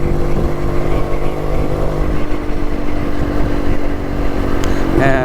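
A vintage Jawa 250cc motorcycle rides along a single-lane road toward Dhanushkodi, its engine giving a loud, continuous throbbing drone with heavy wind rush throughout, and a person talks over it.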